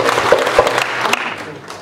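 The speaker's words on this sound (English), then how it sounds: "when I say la maku, you clap four times" Audience at a Fête de la Musique concert in London clapping on cue, a burst of close, loud hand claps with a few sharper accents, fading slightly toward the end.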